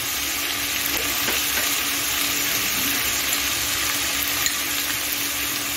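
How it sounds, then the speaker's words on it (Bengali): Potatoes being stirred as they fry in a pan for chire polao (flattened rice pilaf): a loud, continuous close sizzle with the rough scrape and shuffle of stirring throughout. "আলু দিয়ে দিচ্ছি, এখন একটু নেড়ে চেড়ে নিচ্ছি"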